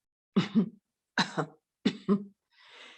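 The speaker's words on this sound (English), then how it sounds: "You can find those muscles with a gentle cough." Three soft double coughs come close together, each a short gentle pair, followed by a quiet breathy exhale; gentle coughs used to engage the inner throat muscles.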